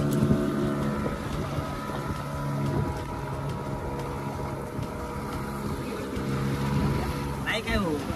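A boat engine drones steadily at sea under wind noise, with a constant low hum running throughout and a brief splash or whoosh near the end.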